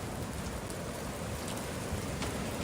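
Steady, dense rain hisses continuously and evenly, close and fairly loud, with scattered drops ticking on a surface and no voices.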